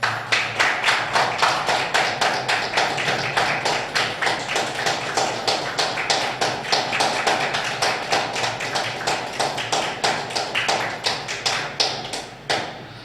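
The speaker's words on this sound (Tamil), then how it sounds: "உங்களுடைய உற்சாகமான கைத்தட்டலோட" A seated audience at a Tamil astrology gathering claps in unison, giving a loud, rhythmic run of sharp, evenly spaced beats that holds steady for several seconds before easing off, with no talk over it.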